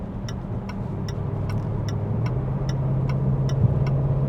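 A Range Rover Sport L494 accelerates while towing a trailer. Its engine drone builds steadily inside the cabin, under a regular ticking of the turn indicator.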